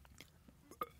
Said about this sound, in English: I might be able to work up a burp and actually...